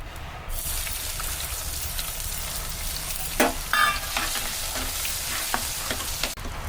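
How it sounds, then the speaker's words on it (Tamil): Crushed cumin and garlic hit hot oil in a pan with a steady, close sizzle and crackle, with a few louder spits and stirring scrapes midway. "சீரகமும் பூண்டும் வந்து தட்டி வச்சுருக்கேங்க எண்ணெய் காஞ்சோடனே கொட்டிக்கலாம்"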